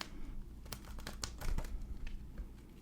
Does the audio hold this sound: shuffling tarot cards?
yes